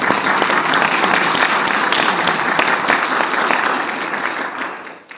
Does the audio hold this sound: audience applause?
yes